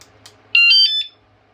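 A motorbike/bicycle anti-theft alarm blares a loud, shrill electronic warble for about half a second after a couple of faint clicks, then cuts off abruptly.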